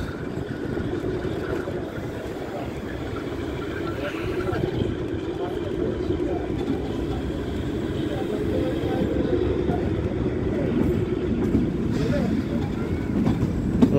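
The Kalka–Shimla toy train rumbles steadily past Dharampur station, a continuous low rolling drone heard from on board, with a voice talking faintly over it.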